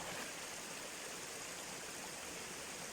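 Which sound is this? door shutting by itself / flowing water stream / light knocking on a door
flowing water stream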